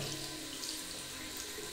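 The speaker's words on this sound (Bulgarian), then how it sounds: "водата се пуска отвътре навън, обратно на въздушната струя" Tap water runs in a steady, even stream, rinsing a K&N car air filter from the inside out against the airflow direction. The splashing is soft and constant.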